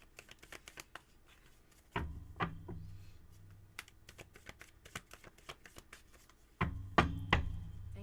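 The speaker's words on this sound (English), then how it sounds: "I want to make sure I'm shuffling this really properly." Deck of tarot reading cards riffled and shuffled by hand, quick rapid flutters and soft slaps with a couple of louder bursts of card snaps, close and alone with no talk.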